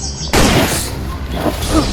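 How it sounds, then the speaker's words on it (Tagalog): Sudden loud gunshot-like bang in a Filipino period drama scene, a sharp crack followed by a ringing, noisy decay with no talk over it. "ay ang pag-alingaw ng isang putok."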